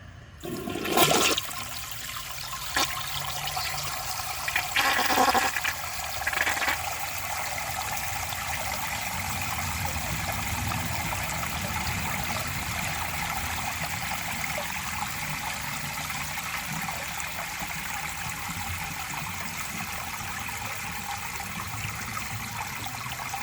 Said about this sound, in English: now I'm going to see if it can siphon if I overfill the tank